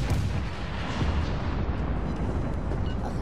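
Naval artillery fire in the warship game Legends of Warships, a dense continuous rumble of loud, heavy booming with no distinct separate shots, filling the whole stretch.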